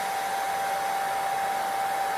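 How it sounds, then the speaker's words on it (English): A hair dryer runs steadily at a gentle setting, a constant airy whir with a thin whining tone and no other sounds. "Get my hair dryer set on low."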